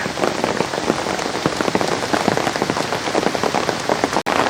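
Rain falling steadily on a garden with dahlias, a dense close patter of drops on leaves and surfaces, continuous throughout with no voices.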